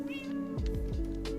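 In a creative-mode building game, a cat meows several times in short drawn-out cries over steady background music, close and clear, with no talk.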